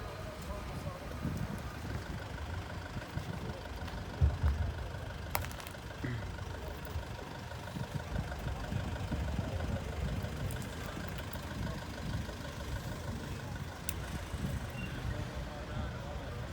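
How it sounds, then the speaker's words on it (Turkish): A Lada/VAZ car engine idling at the front, a steady low rumble running under ongoing outdoor chatter and voices at a car market, with one brief knock near the middle. "Bu avtomobilin qabaq səsidir."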